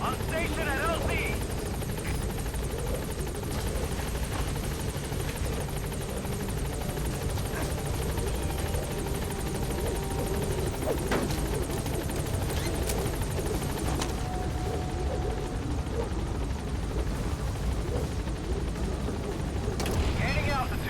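The Pequod helicopter in the video game Metal Gear Solid V arrives at a landing zone, its rotor drone a steady, loud wash throughout with radio voices speaking over it.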